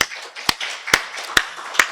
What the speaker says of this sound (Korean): 우리 살아계신 하나님께 박수를 영광 돌리겠습니다